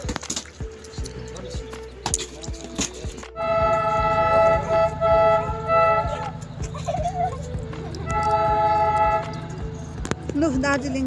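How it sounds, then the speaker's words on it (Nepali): A Darjeeling toy train passes nearby with a sustained, loud rumble and repeated horn toots from about three seconds onward, over background voices and household sounds. "दार्जिलिङ टोय ट्रेन पनि जाँदैछ"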